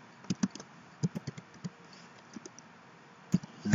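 Code is typed on a computer keyboard in short, irregular clusters of light clicking keystrokes with brief pauses between them, close and fairly quiet.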